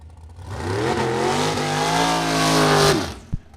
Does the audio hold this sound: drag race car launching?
yes